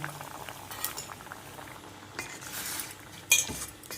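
Masala and amaranth greens bubble at a steady boil in a pan, a close burbling simmer with a quick utensil clink near the end.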